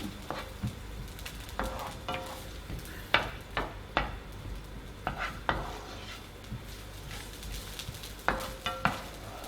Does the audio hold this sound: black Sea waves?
no